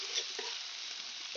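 Pieces of duck meat fry in a pan, giving a continuous hissing sizzle with a few faint stirring touches, close and steady throughout.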